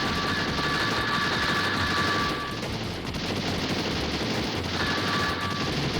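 Continuous rattling gunfire in a Sylvester Stallone action video game as a player shoots at a panel holding up a chandelier, a dense, noisy stream of shots under a faint steady electronic tone.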